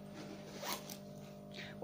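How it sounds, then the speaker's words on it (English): A zip on a second-hand rucksack is pulled open in a couple of quick, close rasping strokes, quiet and brief with a faint steady hum behind it. "you're gonna hear the zip"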